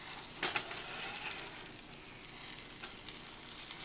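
Omelet egg sizzles in a frying pan, a steady close hiss with a few sharper crackles and spits scattered through.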